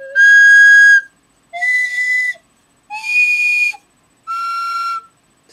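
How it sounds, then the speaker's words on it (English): A toy train whistle with several pipes is blown in four separate long, shrill blasts, each at a different pitch, close and loud with brief silences between them. "It's a train whistle. You blow on each one, it gives a different pitch."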